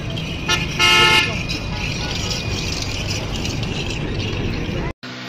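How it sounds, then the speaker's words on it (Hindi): A bus from Multan pulls in on the Bahawalpur road with a loud blaring horn blast near the start, over steady engine rumble and rattle, while people talk nearby. "ये बस आ गई है मुल्तान की।"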